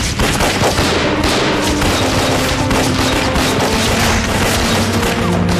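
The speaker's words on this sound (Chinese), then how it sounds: "孙处长， 开枪！" Dense gunfire in an anti-Japanese war film, loud sustained bursts of overlapping shots and booms with no break throughout.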